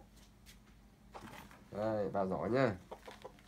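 A decoy chicken clucks loudly and agitatedly in a short burst of calls while someone talks and lowers it into a stiff, square-based carrying bag.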